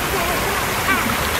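Water splashes and rushes steadily in a fountain at Plaza de España in Seville, a loud continuous wash of spray filling the short moment, with faint voices mixed in.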